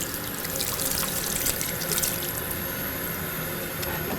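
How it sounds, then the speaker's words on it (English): Hands are wetted under a running tap at a sink, a steady, close rush of flowing water that holds at even loudness throughout, with no talking. "initially we wet our hands. All the areas we're going to wash, we need them thoroughly wetted with water."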